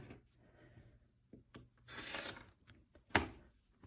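Fabric quilt pieces being trimmed for half-rectangle triangle blocks: quiet, scattered scraping cuts, with a longer rasping stretch and one sharper snip near the end.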